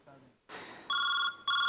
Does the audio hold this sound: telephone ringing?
yes